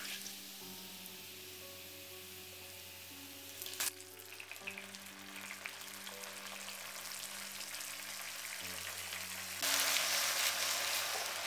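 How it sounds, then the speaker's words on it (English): Onion puree cooking in a kadai, sizzling and frying steadily throughout, with a brief clatter near the middle and the sizzle growing louder toward the end, with no talk. "I am going to add the onion puree, and we are going to cook it until it is little dark pinkish in color."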